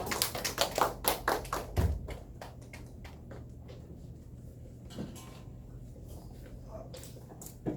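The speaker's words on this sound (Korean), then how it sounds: "우리 함께 감사의 박수 올려드리겠습니다" Congregation clapping in thanks at a church youth service, a burst of sharp irregular claps for about two seconds, then scattered taps and thuds in a quieter hall.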